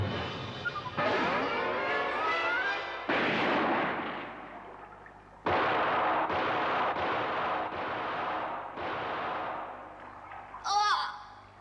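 Gunfire from a 1965 animated series, several heavy booming shots each followed by a long rumbling decay, with a short wavering cry near the end.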